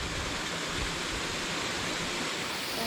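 A creek in a redwood forest flows steadily, giving a broad, even rushing and babbling wash of water that fills the scene with no voices.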